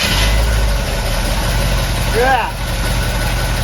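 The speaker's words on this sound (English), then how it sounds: "I'll take a chance and see if it starts back up." A 1970 Chevelle SS with a 454 V8 sits idling after a start, a loud, deep rumble close by that holds steady throughout while someone speaks briefly over it.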